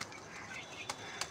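A pigeon whose wings had been tied with thread makes a few faint, short flutters of wing flaps in a quiet space, with two sharper bursts close together near the end.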